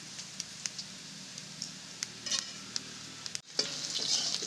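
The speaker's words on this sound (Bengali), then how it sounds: "গাজর আর আলুগুলো ভাজা হয়ে গেছে" Carrot and potato pieces fry in hot oil, a soft continuous sizzle broken by sharp scrapes of stirring at regular intervals, then a brief hush before the sizzle swells louder.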